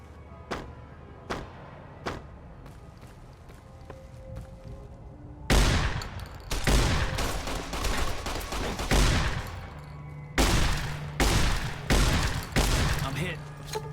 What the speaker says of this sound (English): And now I got a riot shotgun.